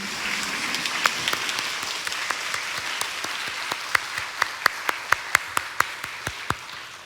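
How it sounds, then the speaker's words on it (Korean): A church congregation in Seoul applauding during an 11 a.m. Sunday worship service: sharp, separate handclaps that start sparse, then grow steadier and more rhythmic, fairly close and bright in a reverberant hall. "박수가 절로 나옵니다."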